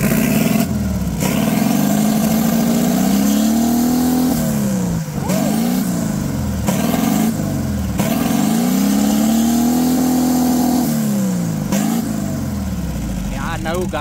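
A turbocharged 1.6-litre flat-four engine in a VW Beetle Superbug runs loud and close, its pitch rising and falling through repeated revs with steady rumble throughout.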